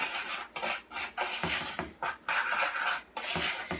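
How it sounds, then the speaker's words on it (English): A whisk scrapes and rasps around a bowl, stirring dry pancake ingredients in short repeated strokes, close and fairly quiet with no voices. "I'm going to take my whisk and I'm going to mix it up so everything is incorporated relatively evenly"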